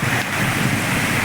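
Heavy rain pours down in a dense, steady, loud hiss with no break, a broad wash of sound with no voices.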